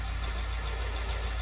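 A tractor engine driving in Farming Simulator 19: a continuous low, throbbing diesel drone with a steady rumble, alone and even in level throughout.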